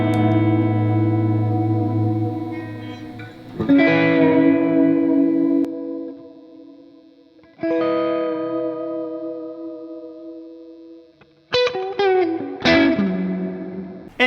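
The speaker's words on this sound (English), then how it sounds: "with the distortion on and both pedals, it gives you a sweet, sweet 80s tone that you just gotta love" Electric guitar run through distortion and reverb pedals for an 80s tone: sustained overdriven chords ringing out, a burst of new strums, then quick picked stabs with echoing tails, loud and close with no voices.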